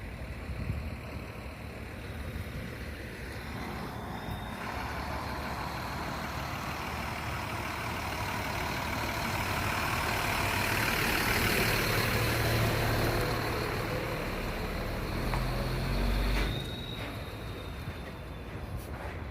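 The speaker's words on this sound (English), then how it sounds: "I was going to wait for this Coca-Cola truck to go by here." A Coca-Cola truck drives past a shopping center outlet mall in Las Vegas, a low engine rumble swelling as it nears, peaking loud in the middle and fading off, with traffic noise around it.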